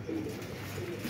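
Pigeon gives a brief low coo, close by, over a soft background hum in a pigeon club setting.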